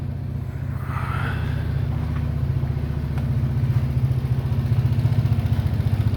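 An ATV engine runs and labors while pulling a forgotten 1965 Mustang out, a close, steady, throbbing low rumble with a rhythmic pulse that grows slightly louder over time, with no talking.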